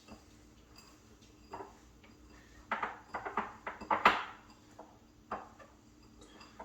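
Salt and pepper cure mixed for smoked salmon, with light scraping and clinking of a utensil against a container in an irregular cluster of ticks and taps, close and moderately quiet.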